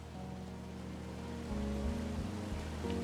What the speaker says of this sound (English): There's a really nice waterfall down here.